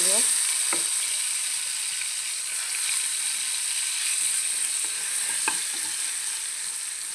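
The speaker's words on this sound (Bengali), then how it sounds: "অলরেডি আমার চিকেন ভাজা হয়ে গেছে" Chicken sizzles and fries in a pan for a spicy home-style chicken bhuna, with a steady hiss throughout and a few clinks of stirring utensils against the pan.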